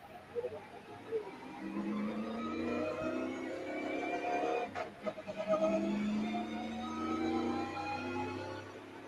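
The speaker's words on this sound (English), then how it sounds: "Oh, I just love that engine sound." A race car engine at the Ambetter 400 revving in rising sweeps, heard faint and distant, with several climbing engine tones overlapping.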